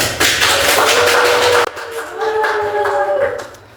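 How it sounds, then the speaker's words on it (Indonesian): An audience at a talent talk event claps, first as a dense burst of many hands, then as thinner scattered clapping mixed with faint whistles and background murmur. "Tepuk tangan dulu dong buat lo."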